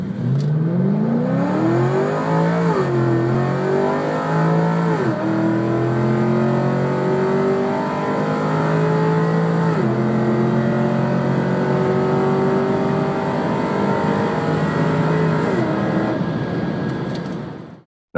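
Chevrolet SS with a 6.2-liter V8 revving loudly and close, its engine note climbing through several rising sweeps with short dips between, then cutting off abruptly at the end.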